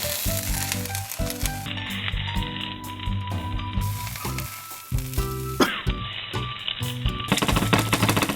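Watermelon slices sizzling on a barbecue grill, a steady frying crackle that runs throughout beneath a layer of tonal, music-like sound.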